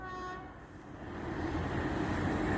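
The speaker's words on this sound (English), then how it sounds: "Sound of a horn." An LNER Azuma train at Stevenage station sounds a sustained horn at the start, then the roar of it passing swells and stays loud to the end.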